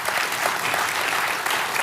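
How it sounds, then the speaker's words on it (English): Steady, full applause from a conference session audience, a continuous dense round of clapping with no one speaking. "Big round of applause."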